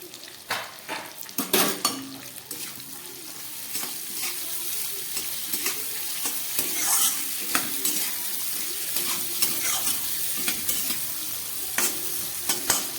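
Thin tender drumstick pieces are stirred into spiced fish in a frying pan for a light fish curry, making a close, continuous sizzle with frequent scraping and clinking of a utensil against the pan, with no voices.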